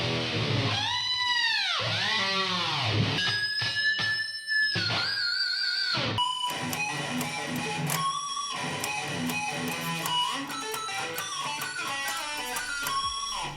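Electric guitar through heavy distortion, played as pinch harmonics: high squealing overtones ring out and bend in pitch over dense, loud distorted chords, with no talking.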